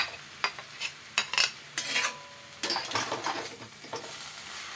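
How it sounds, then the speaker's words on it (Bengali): A fried fish head goes into a pan of papaya, potato and peanuts and gets stirred, giving scattered metallic scrapes and clinks over a soft sizzle, with quiet stretches between. "এখন আমি ভাজা মাছের মুড়াটা দিয়ে দিই।"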